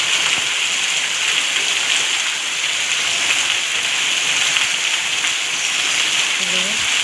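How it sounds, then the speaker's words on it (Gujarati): Heavy rain pours steadily over a village, a dense, unbroken hiss of water falling on surfaces that holds at an even loudness throughout. "તો બ બહુ જ વરસાદ પડે છે અમારા ગામમાં"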